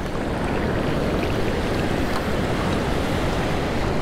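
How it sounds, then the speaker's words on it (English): Big surf waves break continuously along the beach at Padre Island National Seashore, a loud, steady roar of churning water mixed with wind buffeting the microphone. "these waves are big here"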